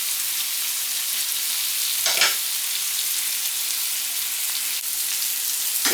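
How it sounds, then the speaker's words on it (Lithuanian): Zucchini sizzles steadily in a frying pan, a continuous close crackle with a brief stir or scrape partway through, no voices. "Ir cukinija beveik iškepus."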